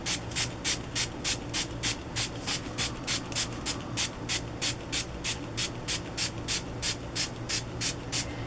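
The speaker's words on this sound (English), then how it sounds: "All right, let's spray." Quick, even bursts of a spray bottle misting water onto stamped paper, about three pumps a second, close up and steady throughout.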